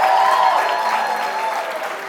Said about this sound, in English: Let's give Megan a big round of applause.